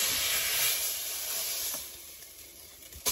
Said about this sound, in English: Now I have seared it on every side.